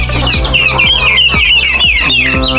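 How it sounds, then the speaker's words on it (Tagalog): A gamecock clucks repeatedly up close in a backyard, sharp rhythmic calls alongside other fowl sounds, loud and continuous. "may manok din ito po yung manok na panabong"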